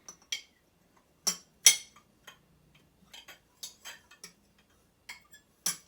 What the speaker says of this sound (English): I'm just going to cut the egg in a few pieces